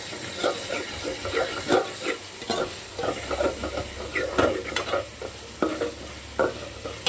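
Ingredients sauté in a hot pan, sizzling steadily while a spatula stirs and scrapes in frequent, uneven strokes up close.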